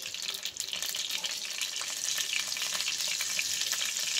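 Potatoes for a Kolkata street-style dum aloo fry in hot oil with a steady, bright sizzle and faint stirring clatter, close and continuous without any voices.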